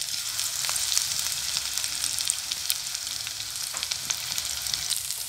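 Cabbage pakoda fries in a hot pan, giving a steady, close, dense sizzle with scattered crackles and pops throughout and no talking.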